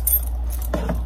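A ring of keys jangles briefly in short metallic clinks while someone searches for the one that fits a locked narcotics box in a long-term care facility.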